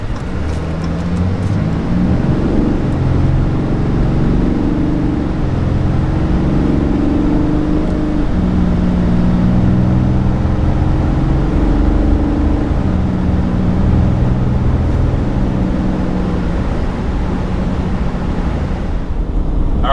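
2022 Chevy Silverado 2500 Duramax and RAM 2500 Cummins heavy-duty diesel pickups accelerating, heard from inside the cab as a continuous low engine drone with road and wind rumble, rising and holding steady with no talk.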